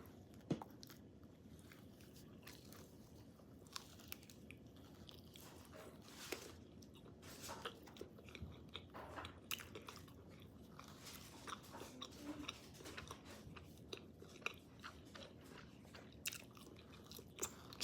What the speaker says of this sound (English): The crunch is so satisfying.